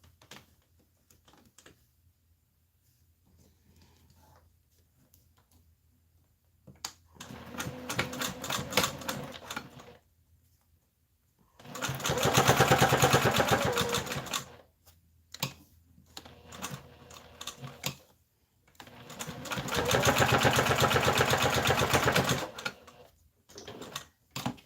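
A sewing machine stitches a strap connector for a leather pouch, running in three separate bursts of steady, rapid needle clatter with quiet pauses between them.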